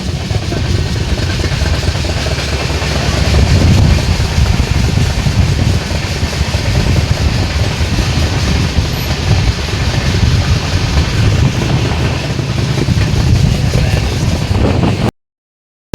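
A train runs through Andul railway station without stopping, a steady loud rumble of wheels and wagons with rail clatter continuing for about fifteen seconds, no talk.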